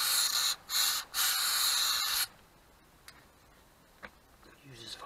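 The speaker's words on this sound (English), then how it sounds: "it uses Vaseline spray, so it's nice and slippy in there." Vaseline spray lubricant hisses out of a can in three loud close bursts during a Jaguar X-Type front wheel bearing change, followed by quiet workshop ticks and faint knocks.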